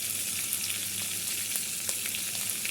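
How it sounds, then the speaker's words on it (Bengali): Fish fries lightly in a wok, a close, steady sizzle with small popping crackles of oil spattering throughout, heard alone without voices. "মাছটা আমি হালকা ভেজে নিব।"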